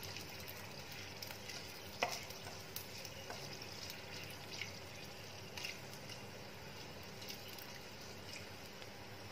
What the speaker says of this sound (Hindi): तेज पत्ता, उसको फ्राई करेंगे थोड़ा सा, हल्का सा उसको फ्राई कर लेंगे